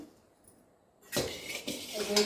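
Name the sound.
puffed rice heated in a kadhai on the gas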